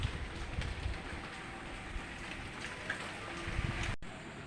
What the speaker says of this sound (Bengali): দেখো হাওয়ার সাথে, বৃষ্টির সাথে আবার হাওয়াও আছে